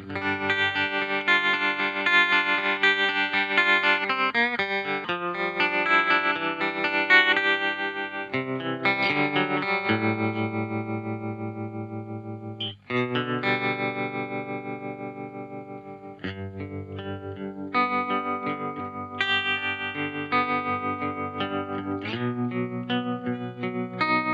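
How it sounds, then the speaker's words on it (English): Electric guitar played through a Nobels tremolo pedal with distortion, sustained chords pulsing in volume with a wavering, effected tone and reverb tails, playing continuously at steady loudness with short breaks between phrases. "we go into this Nobels Tremolo pedal, which I think is a really nice sweet vintage sounding tremolo"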